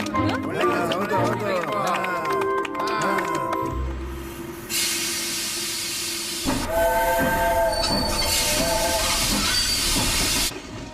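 Cartoon train pulls away from a station with a loud hissing release of steam and rising rumble, a whistle-like tone sounding over it, after children and an adult talk at the start.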